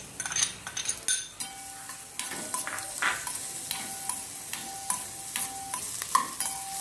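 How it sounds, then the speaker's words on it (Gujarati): Chopped onions sautéing in a little oil for a Gujarati mixed vegetable dish, a soft steady sizzle broken by repeated sharp scrapes and clinks of a spoon stirring against the pan. "અને સમારીને રાખેલી ડુંગળીને સાતળી લેશું"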